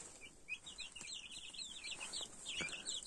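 Small chicks cheep continuously with high, wavering peeps, while a hen's low clucks sound intermittently underneath, fairly close with steady background noise.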